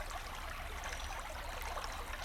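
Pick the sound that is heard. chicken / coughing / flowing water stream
flowing water stream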